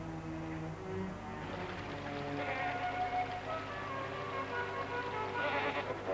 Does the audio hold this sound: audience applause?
no